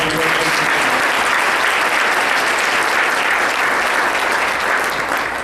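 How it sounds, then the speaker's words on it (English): Steady applause from a sizable crowd at a city's State of the City address fills the room, loud and continuous for several seconds before easing slightly. "let's give them a round of applause."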